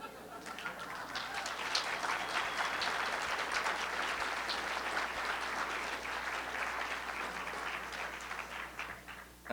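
Audience applause at a poetry festival reading, a fairly faint but continuous patter of many hands clapping that holds steady and slowly tapers toward the end.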